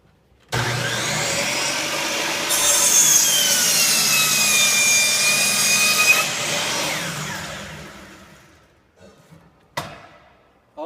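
A miter saw runs loud and steady for several seconds as it cuts through material in a workshop lesson. It winds down to quiet, and a short clunk follows near the end.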